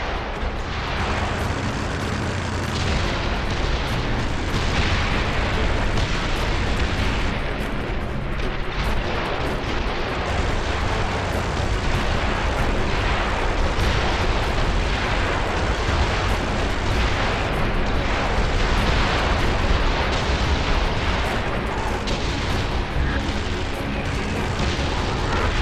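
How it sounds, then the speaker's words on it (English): Missile explosions and heavy booming blasts from the James Bond 007 Blood Stone video game, a dense, continuous barrage of loud rumbling impacts that runs without letup through the whole stretch. "Those missiles are killing us."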